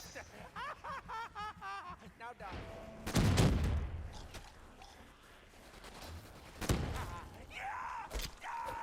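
Gunshots from a zombies video game on the No Man's Land map, fired into a horde of crawlers, with loud bursts around three seconds and near seven seconds amid game noise while someone talks throughout.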